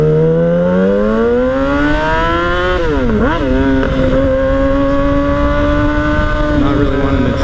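An Indian Scout 60 motorcycle ridden on a first ride, its engine loud and close, rising in pitch through acceleration, dipping briefly during a gear change, then holding a steady drone.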